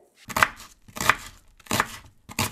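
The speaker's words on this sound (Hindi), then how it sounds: "इसके स्लाइसेस काट के ऐड करते हैं।" An onion is sliced on a cutting board with a knife, four crisp, evenly spaced chops ringing out close and loud with no talking.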